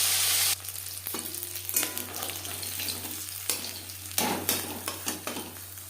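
Fish pieces, turned onto their other side, sizzle and crackle in hot refined oil, with bursts of stronger frying and a few light utensil and pan clinks.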